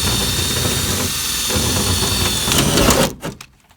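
A power drill with a sharp bit bores out a rivet on a 1960s or 1970s car during a column-to-floor shift conversion, giving a steady, loud, close whine that holds for about three seconds before cutting off.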